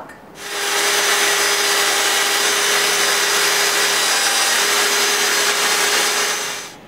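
A power saw runs along a guide rail through clamped boards, a steady loud whining roar for several seconds with a fast spin-up and a tapering stop, no voices.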